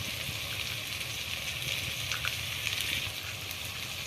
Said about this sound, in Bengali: জল দিয়ে ভালো করে কষিয়ে নেব।